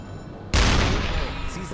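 Deck gun shots from a U-boat in the UBOAT video game, fired at a ship: one sudden loud boom after a brief quiet, then a long rolling rumble and crackle dying slowly.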